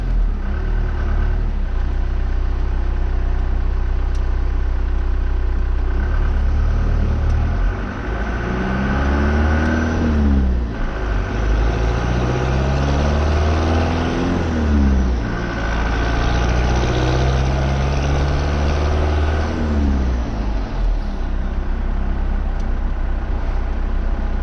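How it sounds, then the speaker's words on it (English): A 4x4 truck fitted with a swapped-in 5-speed transmission drives along, its engine droning loud and steady from inside the cab, with rising and falling pitch sweeps as it works through the gears; no talking. "Hearing the freaking engine through the transmission."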